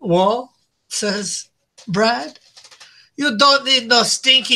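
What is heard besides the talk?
No everyday noise stands out behind the speech.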